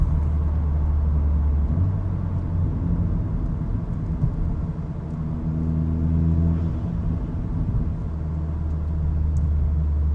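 Turbocharged IS38 car engine droning steadily from inside the cabin, with harmonic bands that rise and shift as revs climb, a constant loud rumble throughout.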